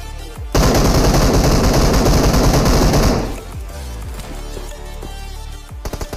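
Loud automatic gunfire from a PUBG Mobile squad match, a dense sustained burst of rapid shots for about three seconds, then scattered fainter single shots and echoes.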